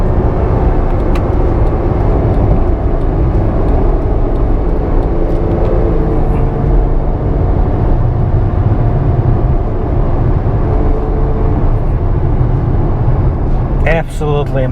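A 2015 Ferrari F12 Berlinetta V12 switched to race mode, a loud continuous engine drone from inside the cabin, steady and close throughout, with a brief burst of higher-pitched noise near the end.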